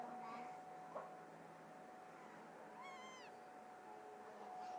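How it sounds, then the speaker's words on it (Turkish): A house cat meows once in a rising then falling call, fairly close but soft, over a quiet room hum with a steady faint electronic whine and a small tap beforehand. "Bizim kedi."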